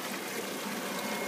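An aquaponics blower pushes air into a water tank, giving a steady, dense bubbling and rushing hiss that stays even and loud throughout, with no voices.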